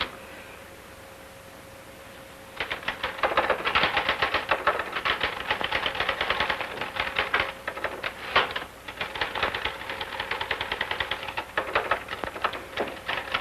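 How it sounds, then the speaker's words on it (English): Rapid, steady clatter of keys on a 1940s manual typewriter starts after a brief quiet moment and continues briskly, loud and close, with short pauses between bursts. "You're certainly making that typewriter say uncle."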